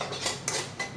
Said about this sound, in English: Once you have it filled to the top, just take a lid and seal it off.